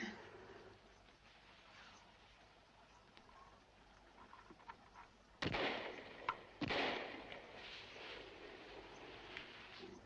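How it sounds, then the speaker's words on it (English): Two distant hunters' gunshots crack out a second apart, each followed by a rolling echo, over faint outdoor ambience, in the 1969 film Ring of Bright Water. "Gunshots."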